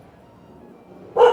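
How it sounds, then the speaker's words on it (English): A single dog bark, fairly close and sudden, rings out after a stretch of quiet ambient sound at a seaside poetry venue. "There's a dog here."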